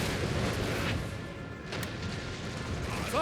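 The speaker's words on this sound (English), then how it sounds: "Another barrage." Artillery in a Napoleon Total War battle fires a barrage of distant booms, dull thuds rolling over a continuous rumble of battlefield noise.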